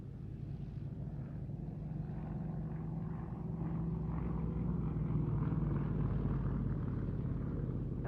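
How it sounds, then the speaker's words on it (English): Yak-52 propeller aircraft performing an aerobatic display at a Duxford flying day, its engine a steady loud drone and rumble that swells slightly as it passes, with no talk. "here is the Yak-52."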